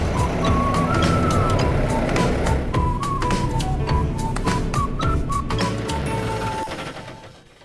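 A tractor rumbles along continuously, a loud steady engine drone with clattering, while a whistling tone comes and goes over it before the sound fades at the end.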